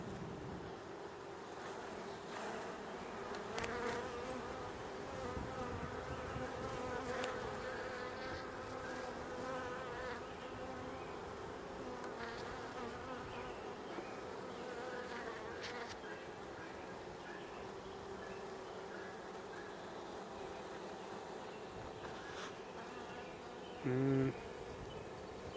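A dense, continuous hum of many honey bees buzzing close by during a queen install, steady throughout, with a brief knock near the end.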